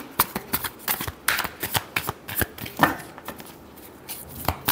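Tarot cards are shuffled by hand close up, giving a rapid run of crisp, papery slaps and riffles with no talk.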